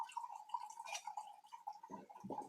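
Liquid pours into a cup, heard as a faint, quiet trickle with a thin ringing tone that runs throughout and a few soft gurgling splashes near the end.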